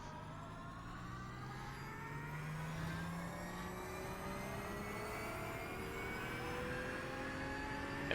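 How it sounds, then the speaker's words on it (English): Porsche 992 GT3 R in iRacing at Barcelona accelerating out of a corner, its engine note climbing steadily in pitch through a sustained, smooth rising whine, moderately loud with no talk. "So pick the throttle up nice and aggressive like."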